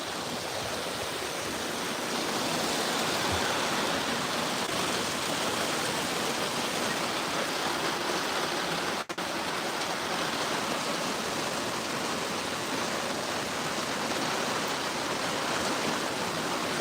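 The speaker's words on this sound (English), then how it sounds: "Oh, here comes a real gust. Look at the water coming off the eaves." A wind gust drives water streaming off the eaves in a dense, steady wash of rushing and splashing that holds level throughout, with one sharp click midway and no voices.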